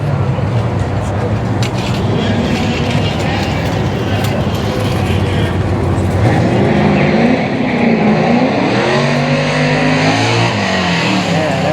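Chevrolet C10 truck engine rumbles past at a Goodguys Fall Meetup car show, a chunky low drone under steady crowd and traffic noise that rises and shifts as it passes and revs, with people talking nearby.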